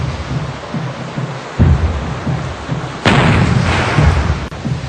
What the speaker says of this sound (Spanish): A las 9:20 de la mañana realiza los primeros disparos.